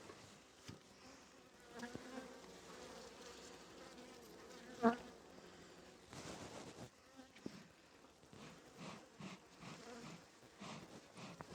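Honey bees buzz continuously at an open hive while a queen is being marked, a soft, steady, close drone with a few brief louder moments and handling noises.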